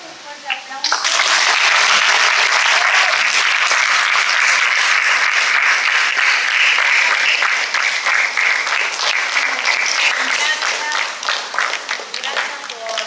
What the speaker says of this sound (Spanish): Bueno, le damos un fuerte aplauso.